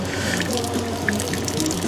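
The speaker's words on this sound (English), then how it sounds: "water just running through there now" Water runs steadily from a household tap, a loud, continuous splashing rush with small drips and gurgles and no speech.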